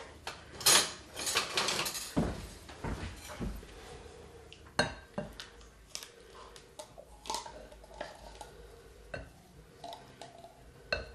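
Kitchen utensils clink and clatter as a spatula is grabbed while cooking with chocolate chips and sweetened condensed milk; scattered close metallic clinks and knocks at irregular intervals, no talking.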